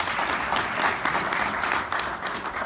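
Town hall audience at HSU applauding, a dense, steady patter of many hands clapping with no voices standing out, holding fairly loud through the whole moment.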